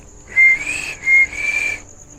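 A clear high whistle near a balete tree in a cemetery sounds twice in quick succession, each note about half a second long, fairly loud against quiet background.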